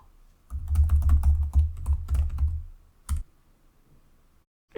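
Code being typed on a computer keyboard, a quick run of close, crisp key clicks lasting about two seconds, then a single clack after a pause, with no talking.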